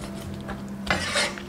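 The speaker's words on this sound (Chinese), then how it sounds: "这个鸭腿给它打上花刀" A knife scores a raw duck leg on a cutting board, a short scraping rasp followed by a louder cut near the end, close and quiet with no talking.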